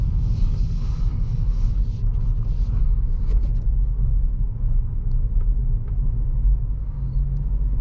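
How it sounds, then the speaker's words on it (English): A 2023 Acura Integra drives with a steady low road rumble and engine drone inside the cabin, the noise easing slightly as the brakes come on, with faint clicks. "I'm actually going to hit the brake a little bit."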